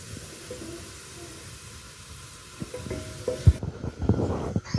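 Onions brown in a pan for masoor dal biryani, a soft hiss at first that turns into louder, busier sizzling and stirring scrapes near the end, close by, with no voices.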